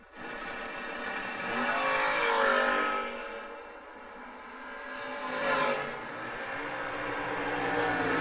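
Drag race cars, one a 4th gen Camaro, launching at a memorial race event, with loud engine roars that rise, fade and swell again across the clip, heard from trackside.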